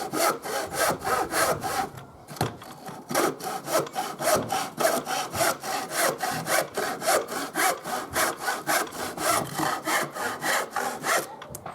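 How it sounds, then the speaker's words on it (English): A hand saw cuts through wood in steady, rhythmic back-and-forth strokes, close and loud, after a short pause near the start. "and then a nice steady sawing action"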